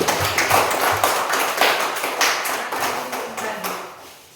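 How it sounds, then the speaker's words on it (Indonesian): Classroom audience claps for the boys at an Islamic school lesson, a scattered patter of hand claps that starts loud and steadily thins out over a few seconds. "Kasih tepuk tangan untuk laki-laki."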